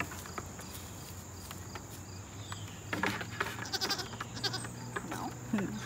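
Goats bleat in a farmyard while being offered apples, a few faint calls among crickets and background noise, with people talking softly nearby.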